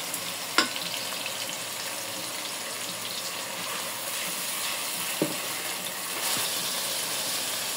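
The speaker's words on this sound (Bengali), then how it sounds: "মশলাটা একটু 5 মিনিটের মতো কষায় নেব" Spice paste of ginger, garlic and garam masala frying in a pan for a bottle gourd and country chicken curry, giving a steady hiss of sizzling with a few faint spoon taps, close and without talk.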